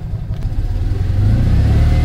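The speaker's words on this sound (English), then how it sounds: "I'll press the acceleration and listen up" A Fiat 126 small car engine revs up from a low rumble, its pitch and loudness climbing steadily and holding at a higher drone, close by with no voices.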